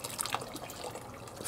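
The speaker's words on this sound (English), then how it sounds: "So I'm gonna add a little bit of water on this one also." Water poured into a pot of Persian halim, a wheat and meat porridge simmering for hours, giving a soft, steady splashing trickle that runs close and moderately loud throughout with no talking.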